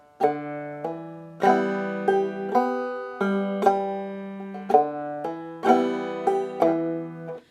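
A clawhammer banjo pattern with the thumb dropping onto the open third string, about a dozen crisp plucked notes in a bouncing, even rhythm, close and solo without any voice.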